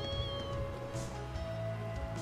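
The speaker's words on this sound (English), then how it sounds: "there's that kitty cat right there" A kitten meows repeatedly in the video game Trails of Cold Steel 2, with short cries over a steady game music bed; no one talks.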